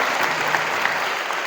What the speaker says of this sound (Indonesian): Boleh tepuk tangan buat yang bersyukur hari ini.